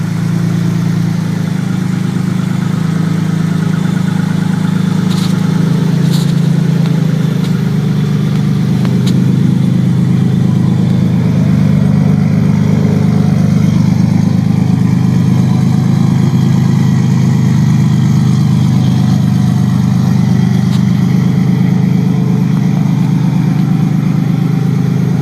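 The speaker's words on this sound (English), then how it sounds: "This is the first startup after changing the bearings in the car." A car engine idles on its first start after the bearings were replaced: a loud, steady low hum that runs unbroken throughout, with a few faint ticks on top and no voices.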